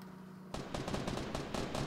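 Rapid bursts of Fortnite gunfire break out after a short quiet hum, a dense clattering stream of shots continuing to the end.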